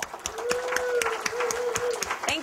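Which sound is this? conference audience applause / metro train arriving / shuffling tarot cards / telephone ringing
conference audience applause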